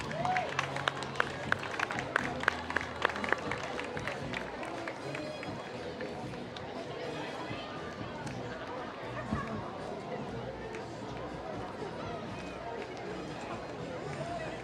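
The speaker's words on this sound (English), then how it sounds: "Give them a round of applause." Outdoor crowd applauding a dance academy troupe at a town day parade, scattered clapping and a few sharp claps up front fading into general crowd chatter and murmuring voices nearby.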